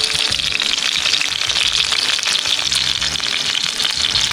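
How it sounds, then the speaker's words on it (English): Rabbit meat fries in a skillet over an outdoor fire, making a loud, steady, close sizzle and crackle that runs without a break. "We are frying the rabbit now."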